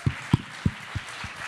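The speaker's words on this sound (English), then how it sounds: "Thank you, you can applaud" A few scattered, spaced claps at a fintech pitch award ceremony, about five distinct hand claps in a slow uneven rhythm, thin and fairly close rather than a full crowd ovation.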